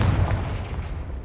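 A Confringo fire spell blasts in Hogwarts Legacy as a single heavy, close boom with a deep rumbling body that rolls on for over a second without fading much.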